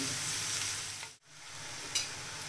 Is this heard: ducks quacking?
no